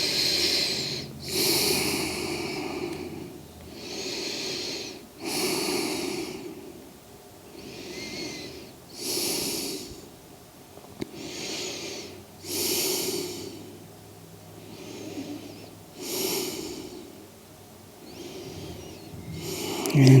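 During a yoga pose, deep breaths come alone and up close in a slow, regular rhythm, each inhale and exhale an audible airy whoosh repeating about every two seconds.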